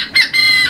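A small Serama chicken lets out a couple of quick, close, high-pitched clucks, the second call drawn out a little longer.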